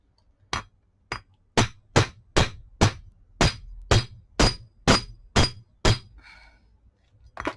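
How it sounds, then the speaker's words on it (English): A hard hammer strikes a paper bead earring made from recycled Christmas cards, about a dozen sharp, loud, evenly spaced blows close up, followed by a faint clink. "go to a harder hammer."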